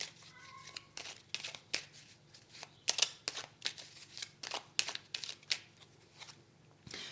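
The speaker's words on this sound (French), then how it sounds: "On va recouvrir ces deux cartes-là." Tarot cards shuffled, handled and laid down on a table, a steady run of soft crisp card slaps and slides close by, with faint speech in the background.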